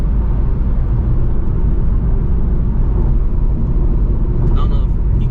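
A Dodge Charger R/T engine roars in a steady, loud, continuous rumble, with muffled voices mixed in underneath.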